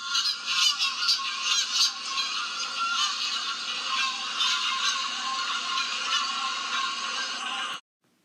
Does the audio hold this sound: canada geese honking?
yes